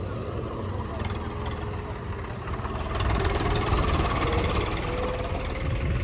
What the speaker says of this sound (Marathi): इथून आलेला आहे ट्रॅक्टर